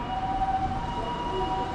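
Ambulance siren sounding in Japanese street traffic, a steady wailing tone held throughout over a constant rumble of traffic noise, loud and fairly close, with no voices.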